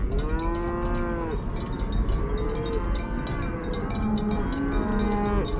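Cattle moo loudly and steadily, several long overlapping lowing calls from a herd of at least 60 head, close and continuous with no talk.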